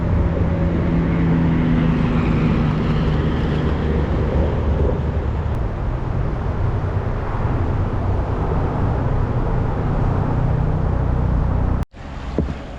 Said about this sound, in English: If you like traffic noise, there's a great sandbar for you right here.